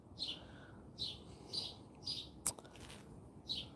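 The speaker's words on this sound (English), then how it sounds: "And all the birds that come and go daily here." Birds at a feeder give short, bright chirps at a regular pace, about one each half second, soft and a little distant over a low background hum.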